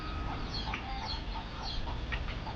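Several chickens cluck softly in short bursts over a steady low background hum, faint and somewhat distant.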